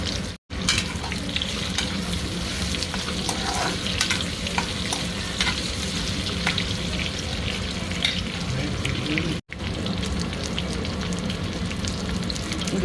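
Raw mango pieces frying in oil left from frying small fish for a mango chutney, a dense continuous sizzle and crackle heard up close, broken by two brief silent gaps, with no talking.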